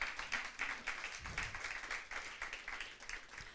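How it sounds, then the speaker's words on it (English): Audience at an entrepreneurship challenge event clapping for a team of three contestants, a short burst of lively, uneven applause that holds at moderate loudness, with a faint voice beneath it. "Can we give them a round of applause,"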